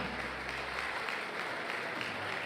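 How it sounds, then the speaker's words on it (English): Steady applause from a banquet audience at an annual charity fundraising dinner, a dense, even patter of many hands holding at moderate loudness for a couple of seconds, with no voices over it. "Give him a round of applause, everyone."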